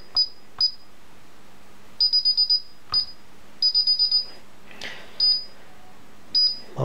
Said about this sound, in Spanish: Vamos a conectar la alarma.